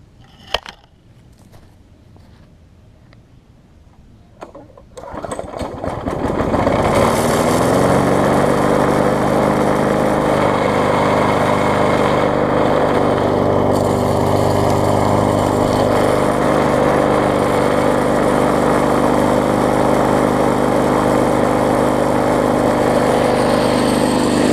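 Bolens self-propelled lawn mower with a freshly regapped ignition coil: a few faint knocks and pulls, then the engine catches around five seconds in and settles into a loud, steady running drone for the rest of the clip.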